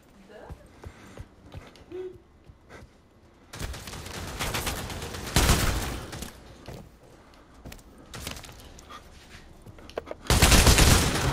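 Gunfire in the VR shooter Pavlov comes in loud, dense bursts later on, with quieter shots and movement before, while players talk over it.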